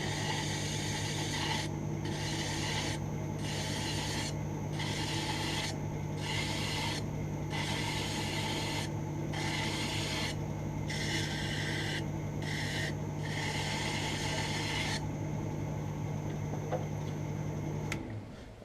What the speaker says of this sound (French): je vais essayer d'approcher mon diamètre à la lime